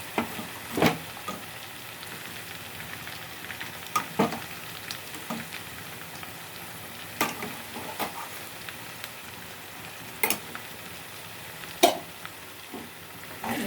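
Ginger garlic paste frying in a pan for a chicken pickle, a steady close sizzle broken by scraping stirs and occasional sharper clacks, with no talk.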